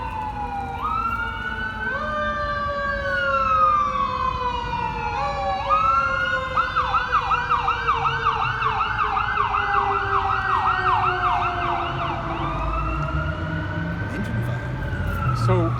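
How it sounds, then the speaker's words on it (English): A loud emergency siren wails and yelps continuously nearby, cycling through rising and falling tones, with a heavy vehicle rumbling underneath. "I might wait for the siren here"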